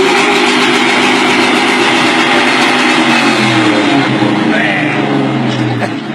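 A Ford Mustang's exhaust roars loud and close at an exhaust sound contest, holding a sustained, throaty drone that shifts pitch slightly near the end.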